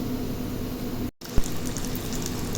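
Chicken samosa rolls frying in hot oil, a dense steady sizzle and bubbling that cuts out for an instant, then resumes with a small thump, close and continuous.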